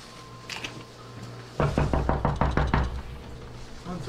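Knuckles rap a closed door in an abandoned house, a quick run of about eight loud, close knocks in a steady rhythm after some faint voices and movement.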